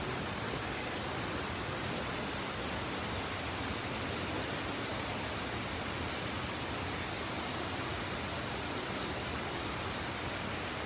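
Water of the Trevi Fountain in Rome, a broad, unbroken rushing roar of falling and splashing water that holds steady and loud for the whole stretch.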